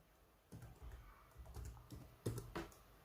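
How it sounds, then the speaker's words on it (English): A password is typed on a computer keyboard during a BIOS security setup: a short run of quiet, uneven key taps, a few clustered, with one firmer press near the end, and no voices. "and type in the same password."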